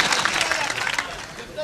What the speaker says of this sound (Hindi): अरे जनाब तालियां तो बजा दो यार